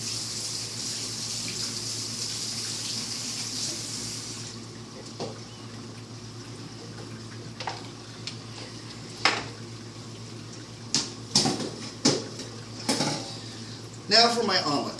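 Water runs steadily from a sink tap at first, then a pan is scrubbed in a home kitchen sink while making eggs, with scattered clanks and scraping knocks growing louder toward the end.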